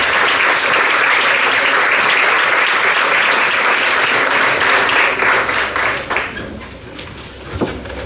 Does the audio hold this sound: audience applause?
yes